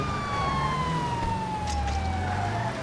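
Police car siren in a city street, its wailing tone sweeping steadily through the clip at moderate distance over continuous traffic rumble.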